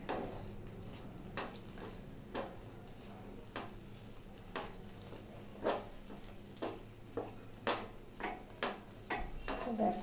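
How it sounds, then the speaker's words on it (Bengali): A spoon scrapes around a pot of flour paste for homemade glue, stirred over a low stove flame, making a fairly quiet, regular series of soft scraping knocks roughly every half second to second. "দেখো এইভাবে এইভাবে নাড়তে হবে, একভাবে নাড়তে হবে।"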